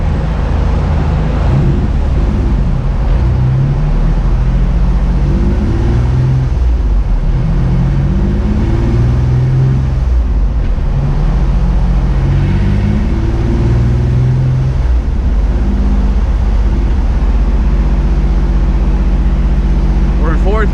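Turbocharged Infiniti G35 running hard on a dyno in fourth gear, with a loud, steady engine drone and a rising, stepping pitch that fills the whole stretch, and voices talking beneath it.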